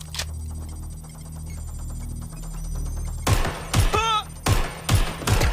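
Bursts of video game gunfire crack out in rapid sharp volleys after a quieter electronic hum, several close, loud shots in quick succession with a brief warbling tone among them.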